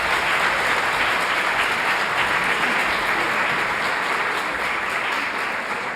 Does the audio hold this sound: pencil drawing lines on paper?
no